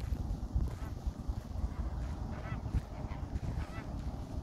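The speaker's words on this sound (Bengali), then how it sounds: "শোনা যাচ্ছে ওখানে কোয়াক কোয়াক করছে পাখি" Water birds at Al Wathba Wetland Reserve give repeated honking, quacking calls from a distance, faint and scattered over a steady rush of wind across the open ground.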